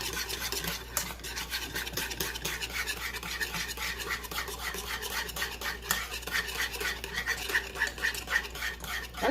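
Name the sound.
beef stock cube being stirred around the bottom of a gravy pan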